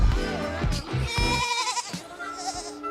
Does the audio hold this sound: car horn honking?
no